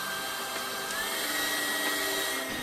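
A hairdryer heats an iPhone display to loosen its glue, giving a constant motor whir and airy hiss with a thin whine, steady and moderately loud.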